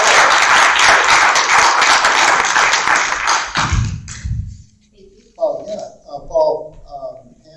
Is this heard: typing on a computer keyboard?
no